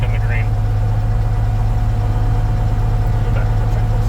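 A light aircraft engine idles steadily after startup on a cold engine that has not flown all day, a continuous low drone with a faint tonal hum throughout, loud and close, with no talk over it.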